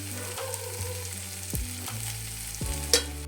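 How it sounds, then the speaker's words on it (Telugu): Cooked rice mixed into paneer frying in a pan, a soft steady sizzle near at hand with a few scraping strokes of the spoon and one sharper clink near the end. "తర్వాత కుక్ చేసిన రైస్ని వేసేసుకొని మిక్స్ చేసేసుకోండి."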